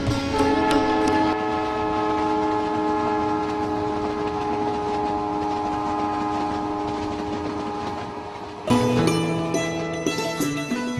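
A luxury train travelling through Rajasthan, India rolls along with a steady, sustained horn-like drone and faint rhythmic clatter, loud and continuous, with a brief shift in tone near the end.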